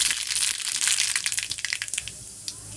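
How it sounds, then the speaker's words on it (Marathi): Mustard seeds hit hot cooking oil and sizzle with a bright, dense crackle, then thin into scattered sharp pops as they settle, close and loud with no talking. "तर छानपैकी तेल आपलं गरम झालेलं आहे यात मी पाव चमचा मोहरी"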